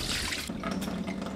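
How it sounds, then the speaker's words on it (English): Water running and splashing from soaked, washed rice as it drains off completely in a kitchen, a steady, close wash of liquid with faint dripping, heard alone without talk. "then we're going to wash, remove the excess starch, and drain them off completely."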